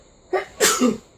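A single close, loud sneeze with a quick intake of breath before the explosive burst.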